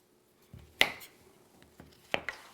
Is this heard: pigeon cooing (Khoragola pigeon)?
no